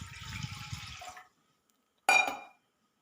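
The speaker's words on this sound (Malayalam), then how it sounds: "അതിലേക്ക് 1 കപ്പ് വെള്ളം ഒഴിച്ചു കൊടുക്കാം." Water poured from a cup into a kadai on a lit stove while making sago payasam: a steady splashing stream for about a second, then silence, and a short splash or clink near the end.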